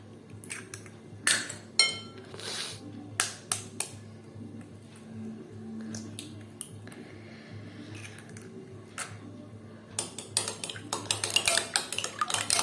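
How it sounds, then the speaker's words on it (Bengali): Two eggs being beaten by hand in a bowl for a homemade fruit cake, bursts of quick clinking and tapping of utensil against the bowl with pauses between, close and fairly faint, no talk. "এখানে এই বোলের মধ্যে প্রথমে আমি ডিমটা ফেটিয়ে নেব।"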